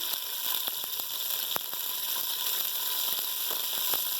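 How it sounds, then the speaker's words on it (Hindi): Spice masala sizzling steadily over a low flame while cooking nihari, a dense continuous hiss with scattered small pops and crackles, close and fairly even throughout with no voices. "स्लो आंच पे हम मसाला भूनेंगे"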